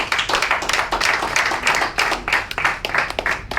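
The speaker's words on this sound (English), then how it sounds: "A big round of applause for him." A small group claps for a few seconds, an uneven patter of hands filling the room at moderate volume.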